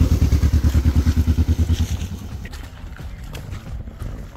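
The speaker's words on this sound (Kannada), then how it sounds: "ಇನ್ನೊಂದು ಗಾಡಿ ಬಂತು." A motorcycle arrives, its engine thumping in a loud rapid pulsing rhythm close by for about two seconds before dropping to a softer rumble.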